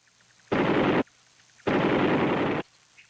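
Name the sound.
M60 machine gun firing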